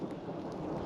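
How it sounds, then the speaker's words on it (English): Thunder rumbles through a storm on the Oregon Trail, a low continuous roll blended with steady rain hiss, fairly loud and unbroken, with nobody speaking. "with it being lightning and thundering out"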